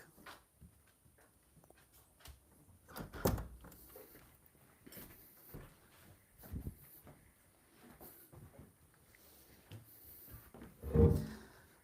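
A front door being opened to let cats in from outside, with scattered knocks, rattles and a heavier thud near the end, close by and intermittent against a quiet room.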